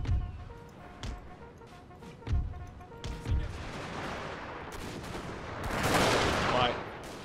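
Musket volleys in the video game Napoleon Total War, several sharp cracks at irregular intervals followed by a denser rolling burst of fire and battle noise.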